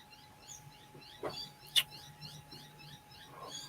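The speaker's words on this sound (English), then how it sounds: "Noisy birds in this neighbourhood." Faint, high chirps from small birds repeat in quick bursts somewhere outside, with a quiet background hum.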